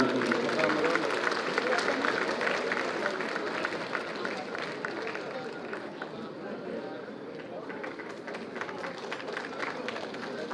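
A crowd at a Constitution Day ceremony applauds the Chief Minister's arrival with dense, sustained clapping that fills the hall and eases slightly midway, with voices mixed in.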